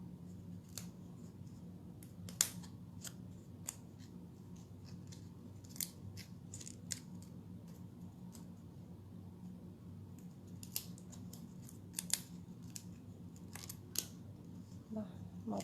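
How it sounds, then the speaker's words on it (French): Scissors snipping ribbon at an angle during a craft demonstration, a long series of sharp, quiet cuts spread irregularly over steady room tone, some crisper than others. "J'aime beaucoup couper mes rubans en biseau."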